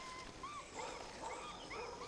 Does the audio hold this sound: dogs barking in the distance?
yes